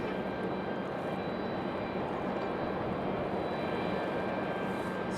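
A Southwest airliner departs Raleigh-Durham International on a direct flight to Las Vegas. Its engines give a steady, moderately loud roar that holds throughout with no talking.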